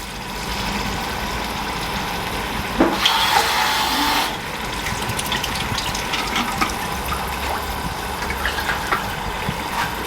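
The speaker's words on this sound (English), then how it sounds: "See, I wash the bottle and don't waste anything" Tap water runs steadily into a bottle being rinsed of leftover tomato passata, a continuous rushing wash with a brief louder gush partway through, heard alone without talk.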